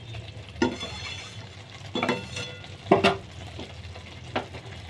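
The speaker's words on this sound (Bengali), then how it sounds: "দিয়ে এটাকে একটু আবার একটু ভালো করে নাড়াতে হবে।" Fish curry of loitta (Bombay duck) being stirred in a pan, with four distinct scraping strokes over a soft, steady simmering sizzle, fairly close and without talk.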